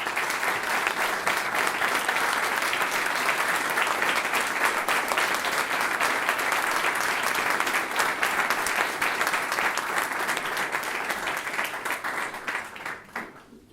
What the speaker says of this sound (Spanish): un aplauso para Angelelli.